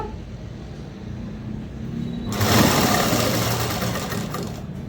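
A sewing machine stitches cloth with a steady mechanical whir that grows louder and busier partway through, close and continuous, with no voices.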